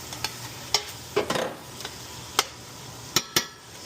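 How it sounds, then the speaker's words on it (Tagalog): Onions and garlic fry with a soft sizzle in a pan, broken by sharp clinks and scrapes of a utensil stirring against the metal at an uneven pace, close and fairly loud. "Damihan nyo yung mga onions and garlic."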